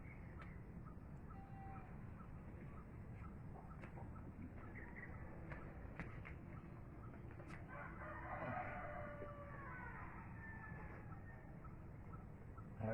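A rooster crows faintly and at a distance, its call rising out of a quiet, steady rural background hum.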